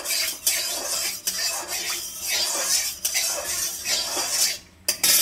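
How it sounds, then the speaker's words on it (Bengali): A metal kadai holding a little white cooking oil is swirled and scraped on the stove in repeated sweeping strokes, bright hissing scrapes broken by short pauses, close and fairly loud with no talk. "এবার কড়াইটা চারপাশে নেড়ে নিচ্ছি তেলটা ভালোভাবে।"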